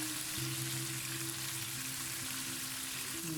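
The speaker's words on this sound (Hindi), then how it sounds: "ये मैंने 4 मिनट तक दूसरी तरफ से भी चिकन के पीसेस को फ्राई कर लिया है।" Chicken pieces frying in a karahi over a high flame give a steady, close sizzle with a low hum beneath, continuous for a few seconds and no talking.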